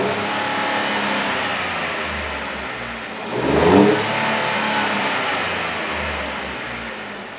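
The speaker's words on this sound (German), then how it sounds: "Wenn ich da jetzt kurz Gas gebe," A car engine on a dynamometer power test stand runs steadily, then revs up in a brief throttle blip before settling back to its loud, continuous drone.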